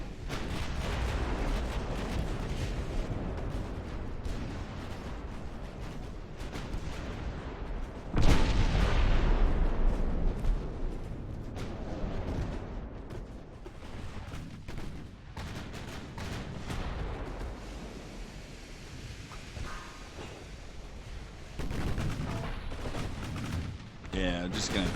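Naval gunfire in the warship battle game Ultimate Admiral: Dreadnoughts, with armored cruisers and battleships trading fire as a dense, continuous rumble of shots and booms, one heavy blast standing out midway.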